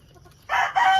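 Chickens in a small backyard flying pen, with a rooster crowing loudly and close after a quiet start, its call breaking briefly and then carrying on.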